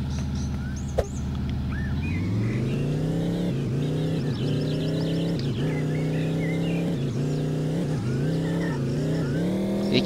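A car engine in a driving video game revs up and down repeatedly, with rising and falling pitch in a loud, close, continuous drone lasting about ten seconds.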